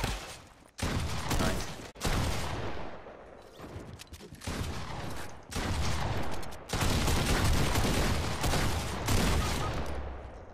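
Fortnite Season 9 gunfire crackles in dense, loud bursts of rapid shots across the whole stretch, broken by a couple of brief gaps, with no talking over it.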